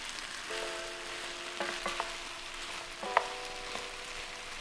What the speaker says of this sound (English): Now we're going to add in a large onion that's been sliced into nice chunky strips and cook that, stirring occasionally for about 2 minutes.